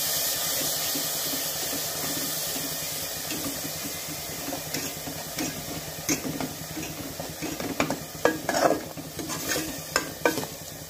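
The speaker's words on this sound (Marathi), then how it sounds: "आता आपल्याला याला छान परतून घ्यायचं आहे।" Tomato puree masala sautéing in a pan, with a low steady sizzle and repeated scraping stirs that grow busier and louder toward the end, with no voices.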